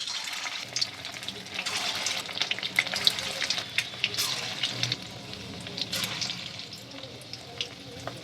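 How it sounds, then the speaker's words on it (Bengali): Egg 65 balls fry in hot oil with a bubbly, crackling sizzle, punctuated by sharp spits and clinks as they are turned, heard close with no talking. "উল্টে পাল্টে আমি ভেজে নেব।"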